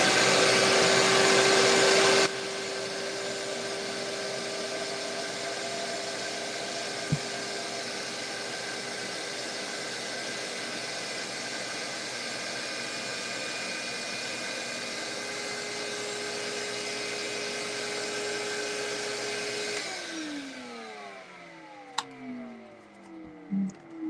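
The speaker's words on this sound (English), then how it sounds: "And we annoy Peaches with the vacuum cleaner one more time" A household vacuum cleaner runs with a loud, steady whine and whoosh, cuts out after about twenty seconds, and its motor then winds down in falling tones.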